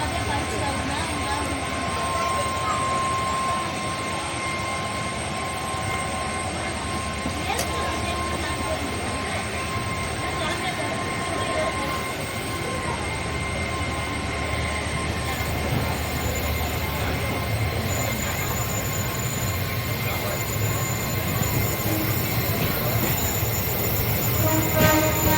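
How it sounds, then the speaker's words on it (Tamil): A passenger special train, 06892 running between TPJ and UKV, departs with a continuous loud rumble of rolling wheels and railcars, a steady metallic whine and occasional wheel squeal heard from on board. "பாருங்கள், நம்ம ட்ரெயின் வந்து கிளம்பிடுச்சு."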